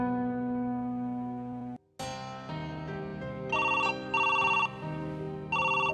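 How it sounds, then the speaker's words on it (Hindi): A telephone rings with a warbling electronic trill, repeating in short bursts over a steady tonal drone. "लो आ गया फोन। लो ये लो, बैल जा रही है।"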